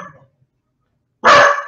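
A single loud, close dog bark breaks out after a brief stretch of near silence, preceded by a faint trailing sound at the very start.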